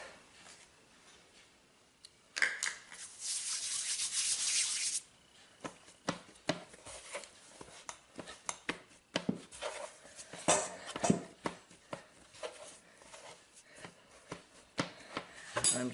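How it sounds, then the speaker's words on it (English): Pizza dough is kneaded by hand on a floured surface, with soft, irregular thumps, presses and rubbing that stay fairly quiet and close, and no talk. "I'm just going to knead this a little bit"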